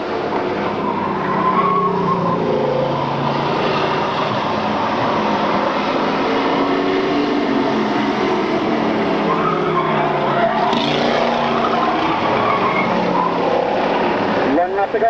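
Race cars roaring around a track in a close battle for position, a continuous loud engine drone and passing whine under an announcer's steady commentary over a public address.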